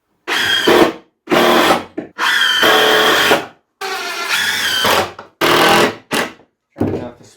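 A drill drives screws into oak pallet boards cut from sawmill lumber, in several loud, close whirring bursts of a second or two each, separated by short pauses.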